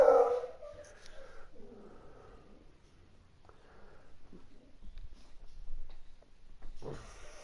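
Indoors, a dog gives a few short barks and soft whimpers with snorting breaths, loudest at the start and end, with quiet gaps between.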